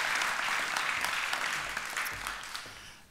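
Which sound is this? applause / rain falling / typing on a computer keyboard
applause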